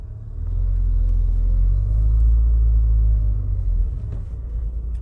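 A Rover 820 car on its first drive after collection, with a steady low engine and road rumble heard from inside the cabin, loud and continuous throughout, swelling slightly in the middle and easing toward the end.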